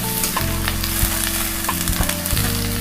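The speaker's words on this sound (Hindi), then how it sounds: "गोश्त को ऑयल के साथ फ्राई कर रहे हैं।" Chunks of beef fry in hot oil with a continuous, close sizzle and occasional stirring scrapes, steady and fairly loud throughout, with no voices.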